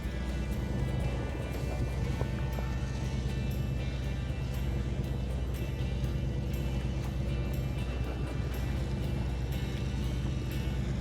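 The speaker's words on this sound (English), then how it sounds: "You hear the engines on because the skipper was going to move the boat." Fishing boat engines running on a sportfishing trip, a steady low rumbling drone that persists throughout with constant loudness, mixed with faint clicks and background activity on deck.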